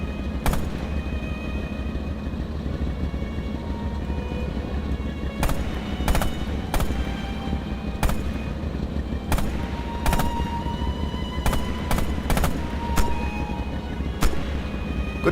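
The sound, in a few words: single-shot gunfire in video game Rising Storm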